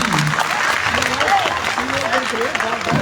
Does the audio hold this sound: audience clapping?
yes